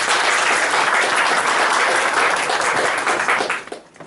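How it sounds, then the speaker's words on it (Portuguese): A crowd at a panel debate applauds steadily with dense, loud clapping that holds for several seconds before tapering off at the end. "Uma salva de palmas, por favor."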